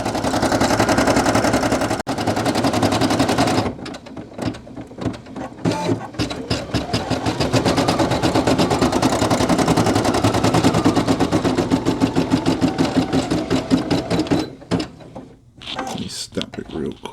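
A Brother PE800 embroidery machine stitches a patch, a fast, loud mechanical rattling of rapid needle strikes that runs steadily, pauses briefly near the end, then resumes.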